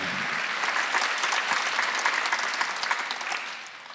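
A congregation at a Korean Sunday church service bursts into loud, crowded applause that holds steady and then fades toward the end.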